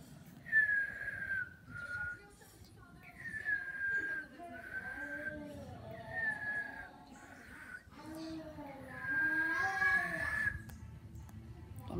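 A person whistles a repeated sequence of steady and wavering tones in phrases spaced through the recording, with speech in between.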